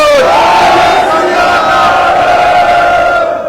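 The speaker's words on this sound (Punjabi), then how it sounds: "ਇੱਕ ਵਾਰੀ ਇਸ ਦਾ ਜਕਾਰਾ ਛੱਡੋ" A large crowd roars a Sikh jaikara, 'Sat Sri Akal', at a rally: one loud sustained collective shout carried across the whole moment, dense and near with no break.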